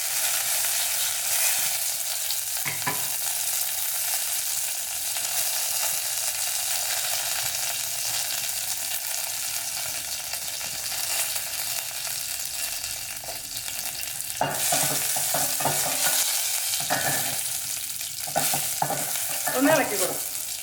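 Dried red chillies and curry leaves frying in hot oil for pepper rasam, a loud continuous sizzle with occasional scraping stirs of the pan, close and steady throughout.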